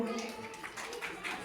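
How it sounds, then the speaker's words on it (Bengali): An audience claps for a school performance at an Independence Day 2025 celebration at Moonlit Public School in Saltora. The applause is steady and fairly close for the whole moment, with voices mixed in. "আরেকটা হাততালি দাও।"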